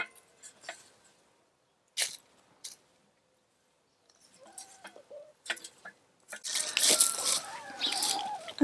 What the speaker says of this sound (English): They're wanting to scratch around inside. Silly chickens.